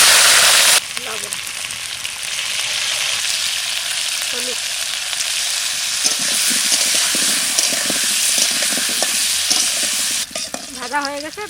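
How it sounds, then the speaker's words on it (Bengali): Potatoes fry in mustard oil with a loud, steady sizzle and stirring that runs almost the whole time, while a voice speaks briefly over the cooking. "সর্ষের তেল, আলু কটা একটু ভেজে নেব।"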